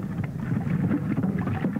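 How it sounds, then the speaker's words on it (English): Wind-powered mechanical laundry barrel in operation at a military post, giving a steady low churning, rumbling drone with irregular knocks and sloshing, continuous and moderately loud throughout with no voices. "I'd like to have you listen to the actual mechanical sound of this wind power mechanical laundry."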